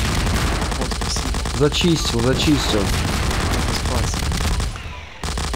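Rapid gunfire from shooting zombies in Garry's Mod rattles in dense bursts through most of the clip, loud and continuous, with a person's voice speaking over it before a brief drop near the end.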